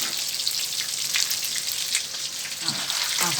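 Steady crackling sizzle of shrimp frying in hot oil in a pan, close up, with small bursts and pops over a continuous hiss.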